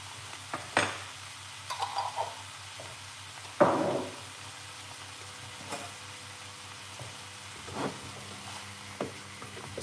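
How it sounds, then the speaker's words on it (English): Vegetables sautéing in a pan: a soft background sizzle broken by scattered clanks and scrapes of a utensil against the pan, several louder knocks standing out, all fairly close and without speech. "So we're just gonna saute off these vegetables."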